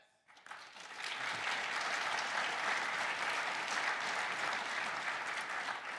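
Large keynote audience at CES 2025 breaking into sustained applause, a dense wash of many hands clapping that swells within the first second and holds steady and loud throughout, with faint crowd murmur beneath.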